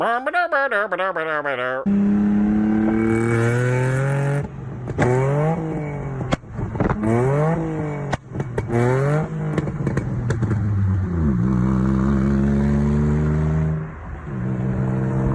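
Repeated rising and falling engine revs, harsh and buzzy, close and loud, with some clicks and scrapes between the surges.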